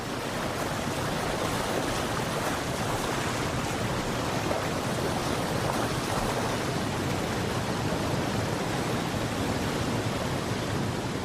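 A fast-flowing river rushes downhill in a steady, dense broadband roar, loud and continuous throughout with no voices, like torrents of water pouring toward the sea.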